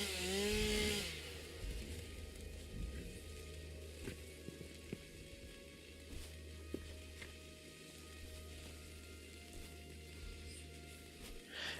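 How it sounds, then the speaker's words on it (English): Chainsaw felling trees in the factory-building video game Satisfactory, a steady mid-loud engine drone that runs unbroken for the whole stretch, with a brief louder burst at the start and small ticks of cutting scattered through. "I would recommend you do not run with the chainsaw in real life."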